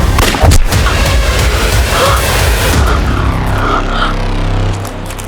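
A handgun gunshot in a crime drama scene: a sharp, loud crack near the start, followed by a dense, rumbling echo that lingers for several seconds before dropping away, with no speech.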